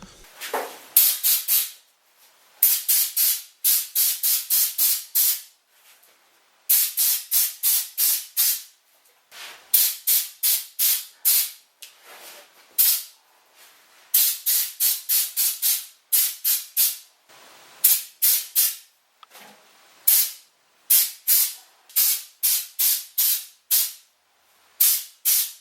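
Rapid bursts of a spray gun hissing stone guard undercoating onto a 1969 Porsche 911T in a garage, loud close pulses fired in quick clusters of several trigger pulls separated by brief silences, repeating for the whole stretch.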